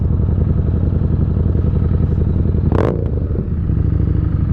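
A Harley-Davidson Street Rod motorcycle engine idles loudly with a steady, throbbing rumble; a brief clatter sounds partway through before the even idle resumes.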